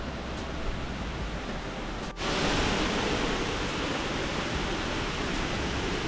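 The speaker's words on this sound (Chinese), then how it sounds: "一下车就可以听到旁边有流水声了" Water rushes steadily near Dexing Waterfall in Lugu, Nantou, a constant broadband roar that continues unbroken throughout, with one brief faint click partway through.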